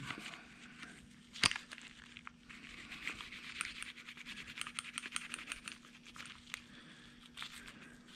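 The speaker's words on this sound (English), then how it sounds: "So just Scotch-Brite and scrub." Scotch-Brite pad scrubbing small parts of a spray gun, soft, fast, irregular scratchy strokes up close, with one sharper knock early on and a faint steady hum underneath.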